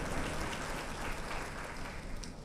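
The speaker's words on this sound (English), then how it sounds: "A round of applause to the CEO, Jacob Slada." A crowd at the Africa Green Skills & Jobs Summit claps in sustained applause, a dense even patter heard from a moderate distance.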